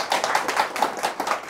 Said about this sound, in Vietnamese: Rồi vỗ tay lớn.